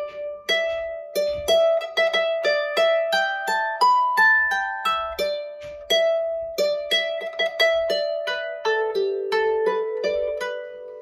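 Manx harp plucking a short phrase that includes an added triplet, clear ringing notes in a steady pattern, heard alone and close.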